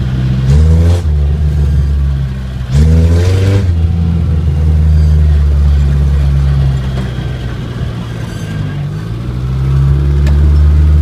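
A 1980 Chevy LUV engine runs loud and close, revving up twice early on before settling into a steady low rumble, then rising slightly again near the end.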